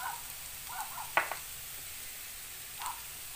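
Cabbage fries in a pan with onion and carrot, making a quiet, continuous sizzle with a few light clinks and scrapes from stirring.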